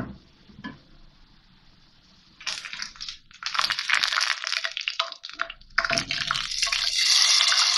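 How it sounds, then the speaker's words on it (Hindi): Fried golden onion tempering poured into a pot of whole black masoor lentil dal, giving a loud burst of sizzling and crackling that fades, then returns strongly near the end, with no voices. "बघार तैयार हो गया है। अब मैं इसको डालूंगी दाल में।"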